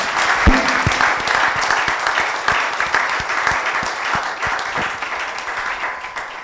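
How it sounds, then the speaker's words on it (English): An audience applauds the panelists at the close of a digital transformation panel discussion, steady dense clapping from a crowd filling the whole stretch with a few louder individual claps near the front. "Please applaud our panelists for the interesting discussion."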